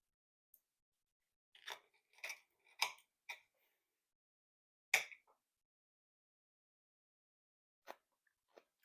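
Firm, crunchy Georgian sauerkraut being chewed close up, a series of sharp crisp crunches in quick bursts followed by a few isolated bites after a pause, with no talking.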